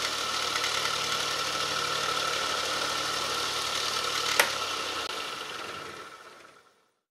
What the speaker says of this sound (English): It's the Marinov motor generator setup